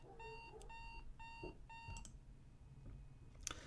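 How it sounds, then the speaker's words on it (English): A bedside alarm clock rings in short repeated electronic beeping bursts, four quick pulsed chirps in a row at low level, then stops, leaving faint room noise and a small clunk. "Snapping awake, I slam the alarm clock snooze button in an instant."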